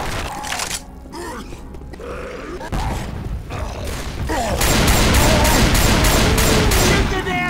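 Rapid gunfire from survivors shooting the Tank in Left 4 Dead, The Passing campaign, loud and dense, building into a sustained burst of repeated shots amid game noise and grunts.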